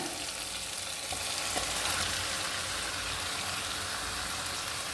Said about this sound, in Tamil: இப்போது நம்ம மேரினேட் பண்ணி வச்ச சிக்கனை சேர்த்துக்கிடலாம் அந்த சிக்கனை அப்படியே சேர்த்துக்கோங்க